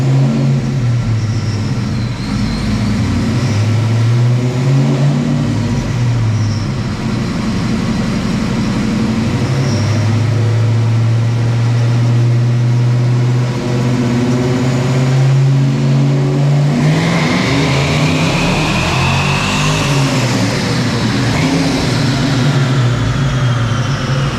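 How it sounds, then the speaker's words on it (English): Supercharged Ford Mustang engine, stored for 15 years, held under load on a dyno through a third-gear pull, a loud continuous engine roar whose pitch climbs steadily and then surges sharply higher near the end, with no talking. "So that first pull in the third gear"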